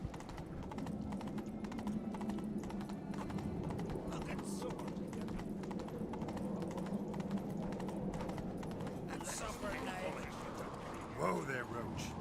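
Hooves of the horse Roach galloping in a video game, a steady rapid clip-clop rhythm throughout, with game voices speaking over it and a brief louder clatter near the end.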